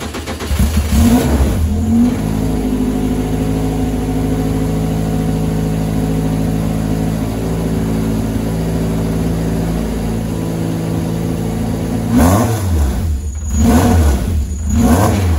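Elan NP01 Mazda prototype race car starting from cold, its engine catching and then holding a loud, steady idle close by before sharp revs blip near the end; no talking.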